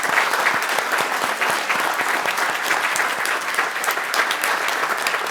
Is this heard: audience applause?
yes